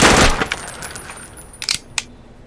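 Semi-automatic gun in Roblox Studio's ACS weapon system: a loud close shot opens, followed by a few sparse, sharp clicks and pops as the firing trails off.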